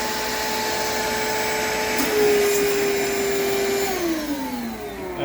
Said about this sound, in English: And you'll be able to hear the water being sucked out of the tank.